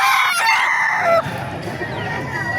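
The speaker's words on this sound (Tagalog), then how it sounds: "Ganda mga manok to." A rooster crows loudly up close at a chicken market, followed by softer chicken clucking and farmyard noise in the background.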